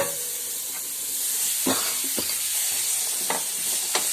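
Tomatoes are stirred and sautéed in a pan for chicken curry, a loud continuous hissing sizzle close by with several spoon scrapes and knocks spaced through it.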